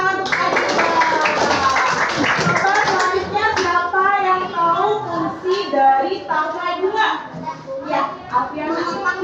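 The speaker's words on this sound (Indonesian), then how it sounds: "Ya, tepuk tangan untuk Anissa." A class of young children clapping together for a classmate, a loud burst of hand claps at the start that fades as a teacher and children keep talking.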